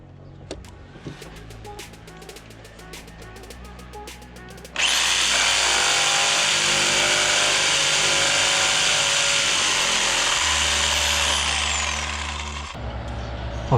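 A jigsaw cuts through wood molding in a coped joint, running loud and steady with a high whine for about eight seconds after scattered light handling clicks, then winding down, played sped up.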